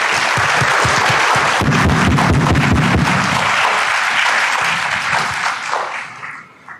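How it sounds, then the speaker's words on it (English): Audience applause at a South Florida Jamaican diaspora launch event, a dense sustained round of clapping with some rhythmic patches, fairly loud, fading out over the final seconds. "let's give our minister a big round of applause."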